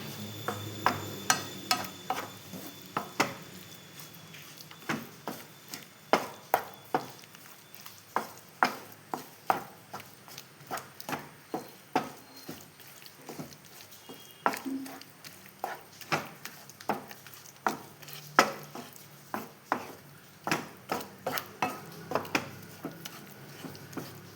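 A spoon stirs and scrapes a mix of coconut, banana, jaggery, dates and cashews in a pan, giving quiet, steady, rhythmic taps and scrapes over about twenty seconds with little else audible.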